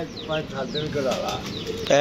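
Pigeons coo softly in short repeated phrases, with faint chirps and a busy background murmur running throughout.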